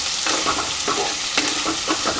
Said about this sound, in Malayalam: ഇനി സവാള ഇട്ട് കൊടുക്കാം. ഇനി ഇതെല്ലാം കൂടെ നന്നായിട്ട് നമുക്കൊന്ന് വഴറ്റിയെടുക്കണം.